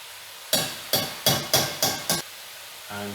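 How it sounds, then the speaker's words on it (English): Fresh unpeeled ginger minced with a knife on a cutting board: six sharp, evenly spaced chopping knocks, close and clear, followed by a faint low hum. "I'm just going to mince in a little ginger"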